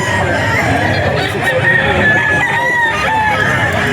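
A bullstag gamefowl rooster crows at an auction market. The cock-a-doodle-doo stands out clearly above a busy, steady crowd and market din, with more crowing and clucking around it.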